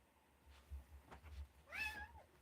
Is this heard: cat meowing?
yes